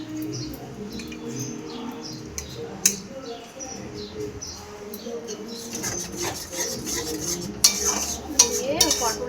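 Curd and cashew paste being stirred in a pan, with a spoon scraping and clinking against the metal in irregular strokes, close and moderately loud, with a soft hiss underneath.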